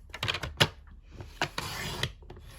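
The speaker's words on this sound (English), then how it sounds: "you are going to put it into your trimmer, and on one side you're going to trim off 1/2 inch." Paper trimmer slicing Stampin' Up cardstock for a treat pouch, a few sharp crisp cutting strokes and clicks close by, short bursts with quiet gaps between them.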